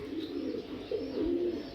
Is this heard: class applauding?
no